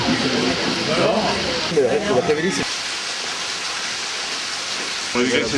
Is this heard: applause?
no